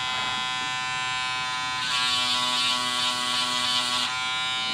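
A SLITE Mini linear electric sander pen, an 18W adjustable-speed tool, sanding a plastic model kit part, giving a steady high buzzing whine that grows louder for about two seconds in the middle, then drops back, with no talking.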